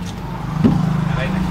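A car engine idling with a steady low hum that rises briefly into a short rev, close and fairly loud, with a voice talking over it.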